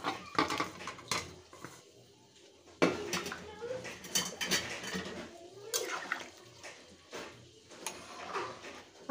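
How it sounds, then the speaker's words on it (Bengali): Fried potatoes go into a pot of mutton curry with clattering metal spoon and pot knocks, wet stirring and splashing, close up, with a voice talking now and then. "এবার দিয়ে দেব ভেজে রাখা আলু।"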